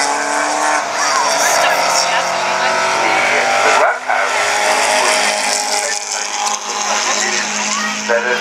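A race car with a twin cam engine screams past on a racing circuit, loud and continuous, with a brief dip mid-pass as the engine note shifts.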